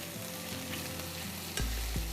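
Steady close-up sizzle of chicken frying in a hot pan for teriyaki, with a couple of scraping stirs near the end.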